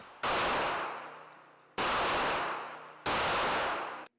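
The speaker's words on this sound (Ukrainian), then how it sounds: "Стріляли з пістолета Макарова у двох раундах." Three loud Makarov pistol shots at a police shooting range during a shooting competition, each a sharp crack followed by a long echoing decay, spaced about one and a half seconds apart with no talking.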